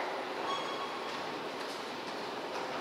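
Steady rumble and hiss of a subway train running through a metro station in Kazan, continuous and fairly loud, with no talking.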